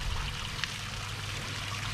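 Shower water runs steadily in a bathroom at a bike park in Zillertal Arena Gerlos, a continuous close hiss of spray without a break and with no voices.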